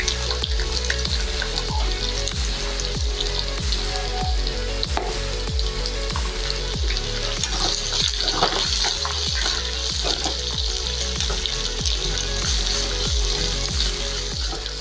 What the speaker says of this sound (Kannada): ಇದ್ರ ಕಲರ್ ಮಾತ್ರ ಸ್ವಲ್ಪ ಬ್ರೌನ್ ಆಗೋ ಗಂಟ ಇದನ್ನು ಫ್ರೈ ಮಾಡ್ಕೊಳ್ಳೋಣ